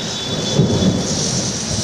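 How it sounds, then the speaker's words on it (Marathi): A city thunderstorm with sudden unseasonal afternoon rain, a dense steady roar of heavy downpour with a low rumble of thunder underneath, loud and continuous with no talking. "ढगाळ वातावरण आणि अचानक विजेच्या कळकळामध्ये आपण बघू शकता सिडूनच्या कार्यालयामधून हे थेट पावसाचे दृश्य"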